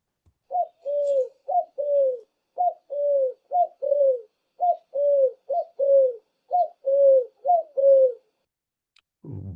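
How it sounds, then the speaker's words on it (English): A dove coos in a steady series of soft, low, rounded calls, repeated in paired bursts over about eight seconds against a quiet background. "The sound of a dove."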